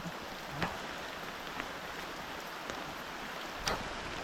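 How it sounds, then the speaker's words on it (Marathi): Heavy monsoon rain pours steadily in the Konkan countryside, a broad, even hiss of falling water with a few faint louder splashes, heard at low level without talk. "पाऊस जोरातच आलाय."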